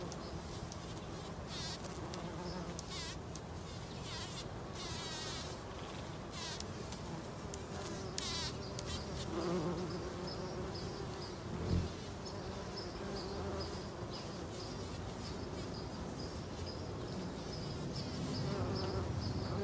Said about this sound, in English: it's in full bloom and totally abuzz with bees and bumblebees